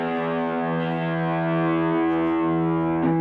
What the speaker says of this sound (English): the more overdriven your amp will get, and therefore the more distortion you'll hear